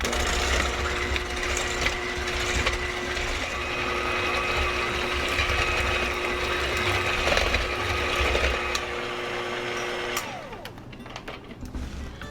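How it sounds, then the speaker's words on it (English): A kitchen mixer whirs steadily for about ten seconds, beating a lemon dessert mixture until it firms up, with a loud, busy mechanical drone that then cuts off, leaving faint room noise. "We're gonna mix this until it starts to get firm."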